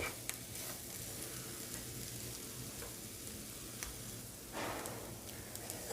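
Masala curry with chicukudukaya beans stirred in a pan, a steady faint sizzle with soft scraping strokes throughout.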